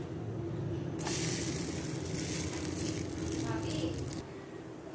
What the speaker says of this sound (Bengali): এবার উল্টে বাকি পাশটাও ভেজে নিব